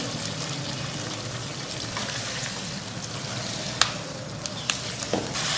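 Tender mutton fries in half a cup of oil for a bitter gourd curry, a steady close sizzle with a few sharp clinks and scrapes from a spoon or pan near the end.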